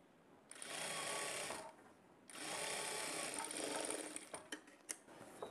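A sewing machine runs in two steady bursts while stitching double-folded blouse fabric for a prince-cut, boat-neck blouse, close and loud, followed by a few short clicks and taps of handling.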